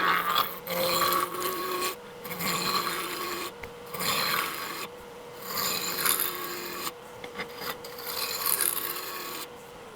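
A wooden handle blank for a BBQ kit is turned round on a lathe, giving rasping, scraping cuts in repeated bursts of a second or two separated by short pauses.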